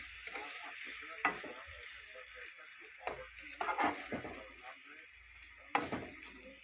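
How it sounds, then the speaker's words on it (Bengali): Chicken pieces coated in masala frying in a pan for biryani, with a steady sizzle and scraping stirs that land as sharp clicks at intervals, a voice talking faintly beneath. "এইভাবে একটু নাড়াচাড়া করে নিতে হবে"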